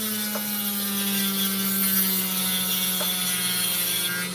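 Lapidary cutting machine working on an opal stone, a steady loud motor whine with a constant hum and faint ticks as the stone is cut, with no voices.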